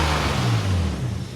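A BMW E30 with a swapped S50B30 straight-six running without oxygen sensors, a loud, steady engine drone close by with a slight rise and fall in pitch.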